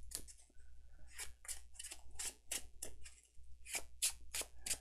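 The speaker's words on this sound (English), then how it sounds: "Now we got to shuffle Rex's deck." Someone shuffles a deck of cards for the Arkham Horror card game, making a rapid series of crisp snapping riffles close to the microphone, repeated in uneven bursts with no talking.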